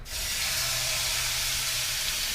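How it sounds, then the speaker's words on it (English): Steady, loud sizzling of salmon frying in hot oil, a continuous bright crackling hiss with no talking. "Oh yeah, that's a good sizzle there."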